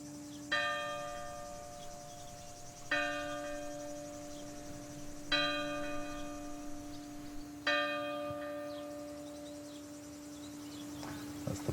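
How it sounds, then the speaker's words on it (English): A church bell tolls over French countryside gardens, four slow, evenly spaced ringing strikes, each decaying before the next, with crickets chirping steadily underneath. "what's nice to hear a bell"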